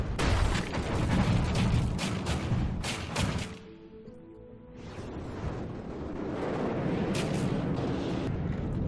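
Cannons fire and shells explode in the naval combat game From the Depths, a dense roar of booms and rumbling blasts with a brief lull before the barrage resumes.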